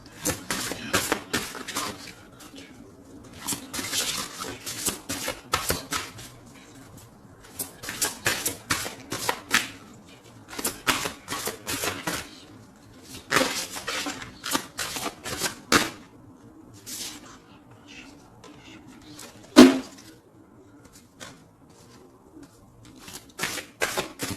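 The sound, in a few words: shuffling oracle cards for a tarot reading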